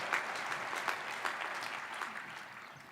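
Audience applause during Ed Helms' speech, a steady wash of many hands clapping, fairly distant and even, with a few sharper claps standing out near the end.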